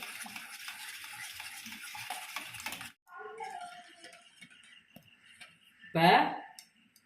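A spoon stirs a seasoned egg mixture with pepper and salt for an omelette curry: steady scraping and swishing, then a sharp metallic clink near the end.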